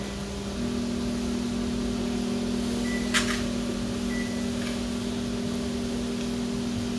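A microwave oven heating a plate of rice hums steadily and evenly, with a faint brief electronic chirp partway through, close and alone.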